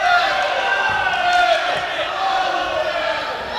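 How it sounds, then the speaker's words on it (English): An arena crowd at the World Boxing Cup Finals 2024 final, Italy against Korea, roars and cheers steadily through the bout, a continuous loud wash of voices with a commentator talking over it. "Crowd are loving this one"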